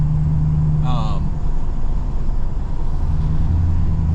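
A 23-25 6.7 Powerstroke diesel truck on a 650 max effort tune cruising along, heard from inside as a constant loud low engine and road rumble, with a brief faint voice early on.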